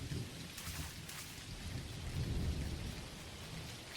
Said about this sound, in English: Hard to see in the rain.